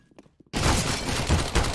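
MAC-10 submachine gun fire in Counter-Strike, a sudden dense rapid burst of shots that begins after a short quiet pause and keeps rattling loudly to the end.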